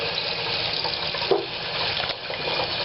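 Water runs steadily into a bottle in a diffuser flow setup, a constant hissing, splashing stream with a brief louder gurgle midway, heard alone and fairly quiet.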